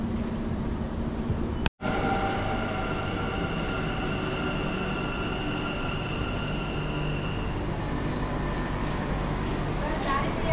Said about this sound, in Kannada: Bangalore metro station.